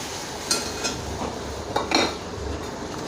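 A utensil scrapes and clinks against a pan a few times while stirring puree into lauki (bottle gourd) sabzi, over a soft steady background hiss.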